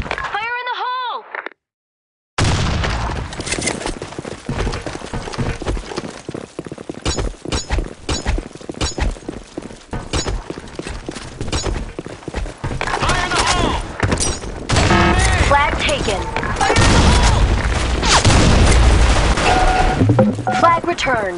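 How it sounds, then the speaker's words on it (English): Video game combat: after a short warbling tone and a gap, a heavy blast gives way to sustained rapid gunfire and thuds, loud and close, with voices shouting over the chaotic firefight. "Grenade! Grenade! Fire in the hole!"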